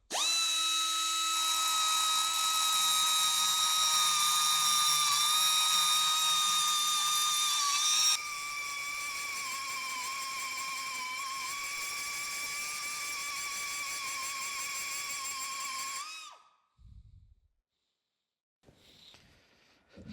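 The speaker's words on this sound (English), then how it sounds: "Got a die grinder with a burr on it," A die grinder fitted with a carbide burr grinds metal on a restored metal planer's oil drip cup, a loud steady high-pitched whine that shifts in tone midway and cuts off near the end.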